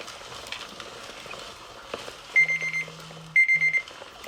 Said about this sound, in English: Don't be alarmed, because the alarm is going to go up.